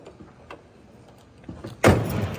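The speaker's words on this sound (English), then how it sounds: "Doors close nicely." A car door on a muscle car with shaved door handles shuts with a single solid thump near the end, after some faint handling noises, close by with no talking.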